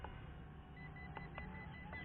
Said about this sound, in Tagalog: Then you will hear a beep